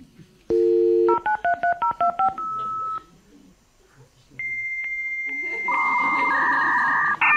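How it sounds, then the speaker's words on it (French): A 56K dial-up modem dials a quick string of touch-tones, then holds steady beeps before shifting into a harsh, buzzing handshake screech, loud and clear. "le bruit du modem 56K."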